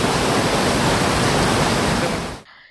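Floodwater rushes loudly through an overflowing stream after heavy rain, a dense continuous roar close by that cuts off abruptly at the end.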